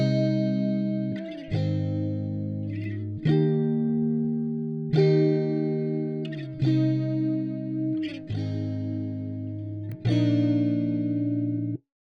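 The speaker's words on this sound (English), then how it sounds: "I asked a friend of mine to record a guitar with some nice chords" Guitar strumming a progression of sustained chords, about seven changes with each strum ringing out and fading slightly before the next, close and clean with no voices.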